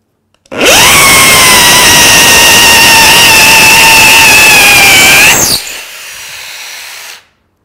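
A Metabo SB 18 LTX cordless impact drill spins up with a 10 mm masonry bit, giving a loud steady high whine for about five seconds that cuts off sharply, followed by a brief fainter run-down.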